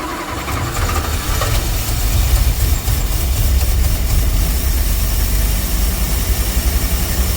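A 1965 Dodge van engine that had been sitting for years, starting on fresh fuel fed to the carburetor and then running roughly, a loud, continuous, rumbling churn close by with no talk.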